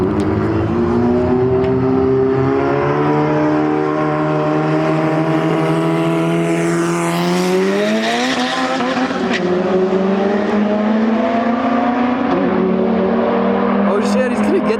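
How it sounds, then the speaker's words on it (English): Race cars launching side by side in a roll race at a private track day with all-motor and turbo Civics and a GTR, engines climbing steadily through the gears and holding loud, close and continuous, with a tire squeal near the end and voices faintly under the roar. "they switched up to roll racing, and so I'm about to watch Wyatt roll race"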